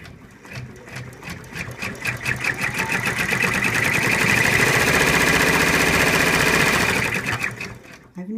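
A multi-needle embroidery machine stitches an in-the-hoop elephant design, a loud rapid mechanical chatter that builds up, runs steadily for several seconds and then stops abruptly.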